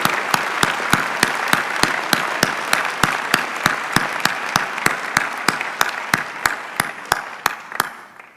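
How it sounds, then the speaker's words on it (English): Applause from the crowd at a UC Berkeley chemistry commencement ceremony, a dense, steady wash of clapping with sharp, regular louder claps standing out on top, sustained and fairly close throughout. "now let's please give them a round of applause"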